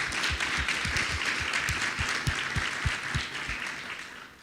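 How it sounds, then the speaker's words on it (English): An audience at an IMF panel discussion applauds steadily, the clapping dense and sustained before slowly tapering off. "A round of applause."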